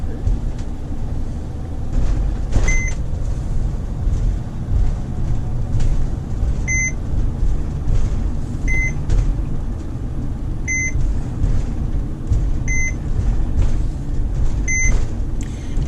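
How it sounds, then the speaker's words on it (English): A car's seatbelt warning chimes in evenly spaced paired beeps over a steady road and engine rumble inside the moving vehicle, with the tones clear but modest against the drone. "That's my seatbelt beeping,"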